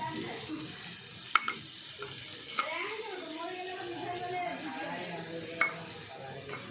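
Goat meat with ginger, cinnamon, cardamom, cloves, bay leaves and peppercorns stirred in a dry wok without oil, giving a faint sizzle broken by a few sharp utensil clinks against the pan.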